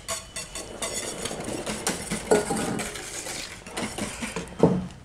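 Whisk or spoon clinking against a metal pot while stirring a milk mixture for homemade lemon verbena ice cream, with irregular scraping and a couple of sharper clanks, close and steady, no talking.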